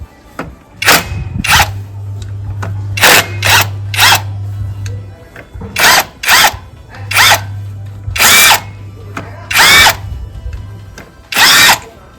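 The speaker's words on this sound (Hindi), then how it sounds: "हल्का सा इम्पैक्ट मारेगा, नट ढीला हो जाएगा" A cordless power impact wrench set to low torque loosens a nut in a run of loud, close, repeated short bursts of rapid hammering, separated by brief pauses, with a steady motor whine underneath.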